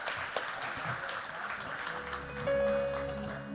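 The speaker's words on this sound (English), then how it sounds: "Give a huge round of applause for them." Audience applause at a corporate anniversary inaugural session, a moderate wash of clapping from a crowd, with a sustained tone and low hum rising near the end.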